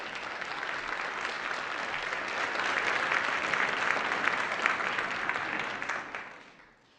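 A large audience at a celebration event claps in sustained, dense applause for about six seconds, swelling slightly in the middle before tapering off at the end.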